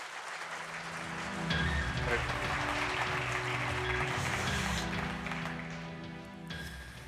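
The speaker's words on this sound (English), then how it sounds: "let's give a warm round of applause, North Dakota round of applause for John Bon" A conference audience applauding a speaker at a 2019 cybersecurity event in North Dakota, a steady wash of many hands that swells, holds for several seconds and tapers off, with some talk mixed in.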